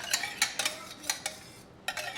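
Whisk strokes clatter against a pot while a cauliflower cheese sauce is beaten smooth, several quick scraping bursts with short pauses between them, faint and close.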